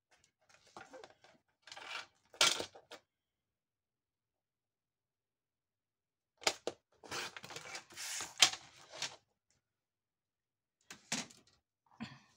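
A paper trimmer (massicot) cutting card to 3.5 cm: several short, sharp slicing and clacking bursts separated by long silences, close and fairly quiet.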